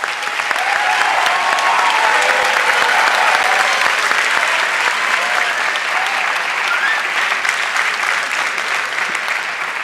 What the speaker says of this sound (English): Warm applause for all the graduates from the digital science track.